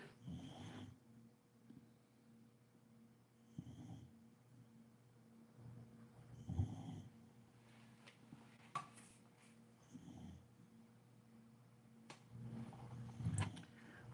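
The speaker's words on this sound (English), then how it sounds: "This damn dog snoring." A dog snoring quietly nearby, low rumbling breaths repeating every few seconds in a slow, steady rhythm with faint room noise between them.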